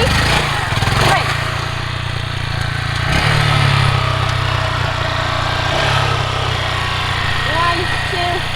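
A Honda Grom motorcycle engine buzzes steadily at close range during wheelie practice, with brief throttle blips and surges amid outdoor noise.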